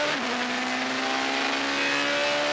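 GT1 race cars pulling away on a racing circuit, engines revving hard in a rising, sustained roar with a quick pitch sweep at the start, loud and close.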